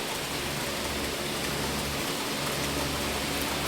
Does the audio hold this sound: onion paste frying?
no